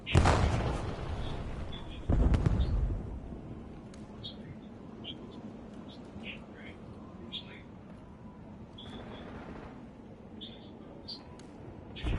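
Artillery on Warzone's Rebirth Island: two heavy, loud booms in the opening seconds, then a long quiet tail of faint ambience with scattered high chirps and a soft rumble.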